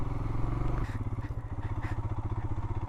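A motorcycle rides a slippery, muddy mountain road in Himachal Pradesh, its engine chugging loudly and steadily up close, with a rhythmic throb and occasional clatter.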